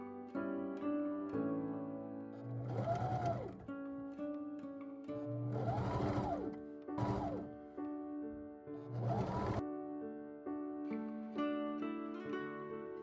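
A home sewing machine zigzag-stitches a ruffled hem along the bottom of a little girl's prairie dress. It whirs in several short bursts with pauses between, quiet and close, over faint background music.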